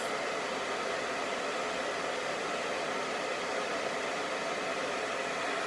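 A hair dryer blowing hot air onto curly hair, a steady loud broadband whoosh that stays constant throughout, close up with no voices.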